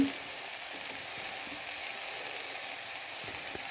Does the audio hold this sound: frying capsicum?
yes